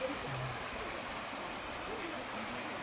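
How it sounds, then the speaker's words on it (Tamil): A small waterfall flows beneath the Thotti Palam aqueduct near Theni, Tamil Nadu. The water makes a faint, steady rushing hiss that stays even throughout and is heard from some distance. "தொட்டிப்பாலத்துக்கு கீழே ஒரு சின்ன ஒரு அருவி தண்ணி போகுது."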